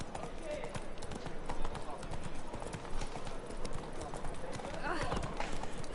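Roach, the horse in The Witcher 3, gallops with steady clip-clop hoofbeats mixed into game ambience and music, while voices talk over the hooves.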